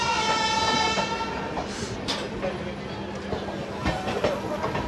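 The Danapur Express rumbles past at Nagpur Junction behind a Vijayawada-shed locomotive, a steady nearby clatter of wheels and wagons with a tonal horn-like note early on and someone talking over it.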